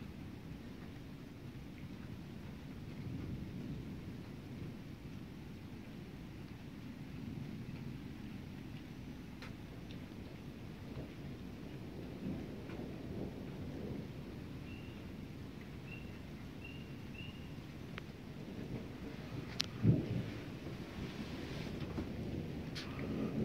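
Steady rain from a nighttime thunderstorm in the Ozark mountains of Arkansas, with low rumbling thunder rolling throughout and a sharper crack near the end, heard alone without voices.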